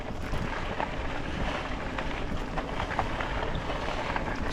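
Steady wind buffeting a microphone while riding an e-bike along a gravel road on a breezy summer afternoon, a continuous close rumbling roar with no pauses.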